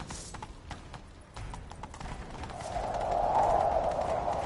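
Horse hooves clip-clop in a quick rhythm, growing louder as the gallop picks up, with a faint whinny and no talking, in the video game The Witcher 3: Wild Hunt.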